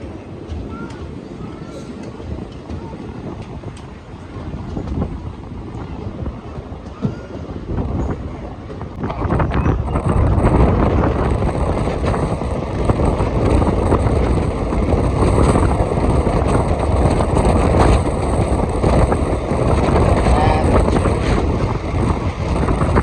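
Tungabhadra Express (17023) on the Secunderabad to Kurnool run, moving on after leaving Umdanagar: a steady rolling rumble with wind roar that swells noticeably louder partway through and stays continuous to the end.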